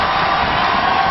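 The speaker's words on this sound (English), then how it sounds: "this crowd comes to life" A basketball arena crowd roars in a dense, continuous wall of cheering and shouting, loud and sustained throughout with no individual voices standing out.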